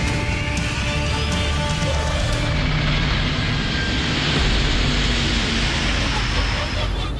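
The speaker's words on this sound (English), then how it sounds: "And at 240 kilometers an hour, the giant aircraft inches down." Giant passenger jet touching down at about 240 km/h with engine thrust cut, a loud steady roar with whining tones that fade, while someone speaks over it.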